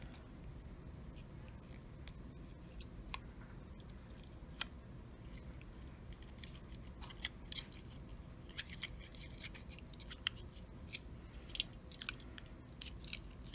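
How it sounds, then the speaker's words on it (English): Weaving wire is snipped with cutters in a series of faint, sparse, sharp clicks and small crunches over a quiet background, at close range. "So we will go ahead and cut off some of this wire."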